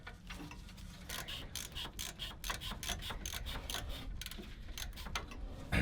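An Allen socket on a ratchet works loose the brake bolts of a 2003 Dodge Sprinter, giving a close, steady run of quick clicking ratchet strokes.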